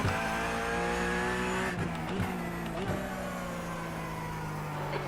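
A Porsche race car in an esports racing game at Imola, its engine droning steadily and then dropping in pitch as the tyres squeal through a slide, with a few sharp gear shifts and downshift blips.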